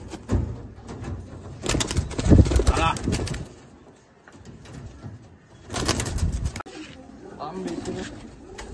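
Pet pigeons in a loft collection coo in low bursts, mixed with wing flaps and shuffling close by, while someone talks over them at intervals.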